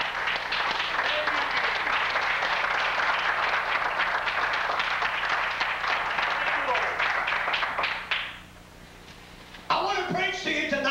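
A church congregation applauds and cheers for several seconds, dense and steady, then the clapping drops off abruptly before a voice begins speaking.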